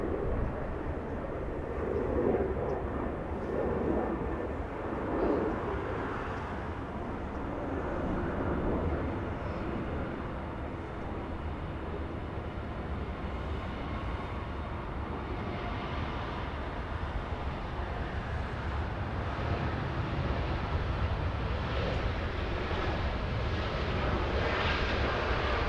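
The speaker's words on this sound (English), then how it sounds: "Already clear for takeoff. Aeromexico getting a move on. And that one a 787-8." An Aeromexico Boeing 787-8 jet takes off at Los Angeles International Airport. Its engines give a long, steady, distant rumbling roar at takeoff thrust, with no voices.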